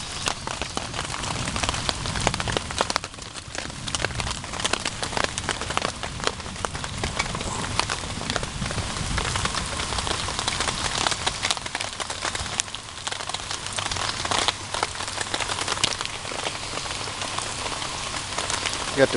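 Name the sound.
heavy rain falling on a lake shelter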